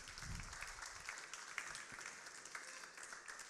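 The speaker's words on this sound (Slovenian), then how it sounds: "kar zaploskajte jim, da bodo lažje" An audience applauds at a public event, a dense, steady wash of many hands clapping at moderate distance, fairly quiet and continuous throughout.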